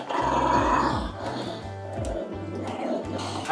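A dog growls low and rumbling at someone, in several drawn-out surges with short gaps, fairly close, over a busy background with some faint bird-like cooing.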